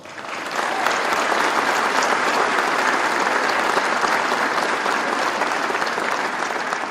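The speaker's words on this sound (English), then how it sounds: "Please give him a round of applause." Sustained audience applause at a political event where the Vice President is speaking, steady and dense from start to finish, loud and close, with no voices over it.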